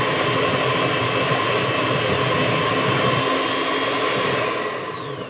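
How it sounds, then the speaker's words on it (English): An electric mixer on its highest speed whisks eggs and sugar with a steady, loud, high whirring drone that tapers off slightly at the very end. "You need to do it with your mixer on the highest speed"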